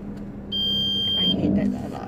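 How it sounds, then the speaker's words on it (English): A car's reversing alarm gives a loud, steady electronic tone that holds for under a second before cutting off, with engine rumble and a brief voice underneath. "I hate that alarm."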